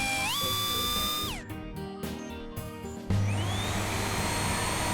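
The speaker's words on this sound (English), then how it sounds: "I don't think that little hairdryer will melt this cold snow shower." A small cartoon hairdryer blows in a wintry snow-storm scene, a steady whirring hum with a rising whine that cuts out and returns louder, mixed with music and effects.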